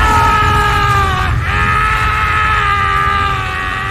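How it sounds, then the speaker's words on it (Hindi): A long, loud, sustained scream from a Hindi horror cartoon rings out with a strained, harmonic voice that dips briefly and then continues, fading slightly at the end. "तभी चट्टान के उस पार से हमें एक खून जमा देने वाली चीख सुनाई दी।"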